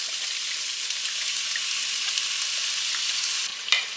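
Chicken and vegetables stir-fry in a pan with soy sauce, giving a steady, close hiss of sizzling with a brief clatter of stirring near the end.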